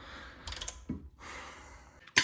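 Wrench breaking loose and turning out the pinch bolt on a BMW E60 front strut, a few short metallic clicks and ratcheting creaks in quiet bursts separated by pauses, close and alone.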